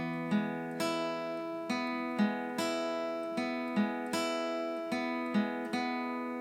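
A guitar picks the intro pattern of a song at a quicker tempo. The ringing arpeggiated notes fall in a steady repeating rhythm, played close and clean with no talking.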